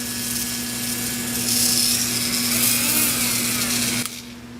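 A Dremel rotary tool whines steadily against a Nissan VQ35DE cylinder head during cleaning, its high buzzing tone holding for a few seconds before cutting off abruptly.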